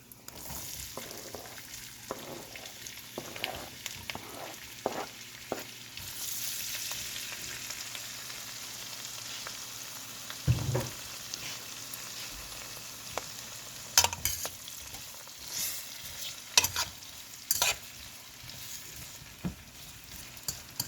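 Cabbage and carrots sautéing in olive oil with garlic, a steady close sizzle throughout, punctuated by stirring scrapes and occasional utensil knocks against the pan, no talk.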